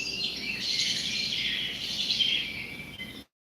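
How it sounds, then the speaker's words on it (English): Birds chirping steadily in high, bright calls, moderately loud and continuous, with no talking, ending abruptly. "wondering where the bird sounds are coming from"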